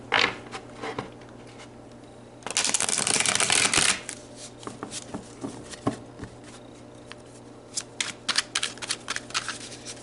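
A deck of tarot cards being shuffled by hand, close up: scattered light card flicks, then a dense burst of riffling for over a second, followed by more sparse taps and slides.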